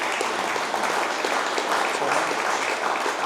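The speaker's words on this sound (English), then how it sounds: "Give them one more round of applause." Audience at a lunch event giving a warm round of applause, dense continuous clapping from many hands, steady and fairly close throughout.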